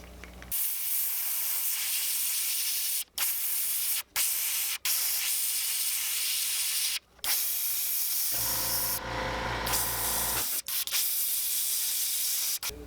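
An airbrush sprays paint onto a fishing lure in long, loud, continuous hissing bursts, broken by brief pauses and one short change in spray tone.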